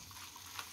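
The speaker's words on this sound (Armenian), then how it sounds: "այսպես մի փոքր միասին կտապակենք այս ամեն ինչը" Chopped green onion, dill and coriander fry in a pan with a faint, even sizzle and light crackle, heard close and alone without talk.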